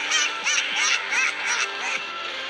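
A turkey in the video game Bulb Boy lets out a rapid series of nasal, squawking gobbles, about five bursts in quick succession, loud and close without talk.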